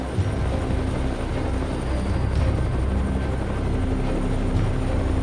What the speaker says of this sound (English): The pilot quickly lowered the altitude, flying the helicopter right over the herd of pigs.